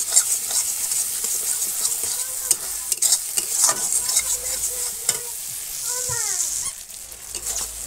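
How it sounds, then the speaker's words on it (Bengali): Spice paste of tomato, cumin, ginger and dried red chilli sautéing in a pan over a wood fire in a village kitchen, a steady close sizzle with repeated scraping stirs throughout. "পাকা টমেটো জিরে আদা আর একটু শুকনো লঙ্কা বাটা সব দিয়ে এখন এটা ভালো করে কষিয়ে নেব"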